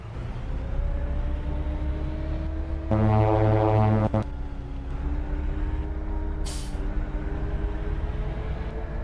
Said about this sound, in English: Horn's even louder.